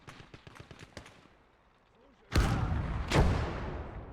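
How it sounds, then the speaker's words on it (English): A 76 mm gun fires at a half-track in the World War II game Gates of Hell: Ostfront, two heavy booming shots in quick succession, loud and close, after a stretch of faint rhythmic thumps and quiet ambience. "we do get the 76 mil in range to fire at the half-track"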